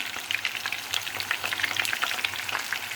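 Eggplants fry in hot oil in a pot, making a dense, crackling sizzle with rapid pops, close and steady for a few seconds with no voices.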